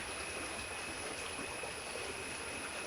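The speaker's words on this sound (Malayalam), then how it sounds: "വളരെ മനോഹരമായ രീതിയിൽ ഈ പുഴ ഇങ്ങനെ ഒഴുകി പോവുകയാണ്." A small forest stream with clear water runs over a sandy bed among reed thickets, flowing in a steady, continuous rush that holds level and close throughout, with no voices.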